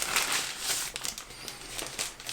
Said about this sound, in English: plastic bags that everything comes in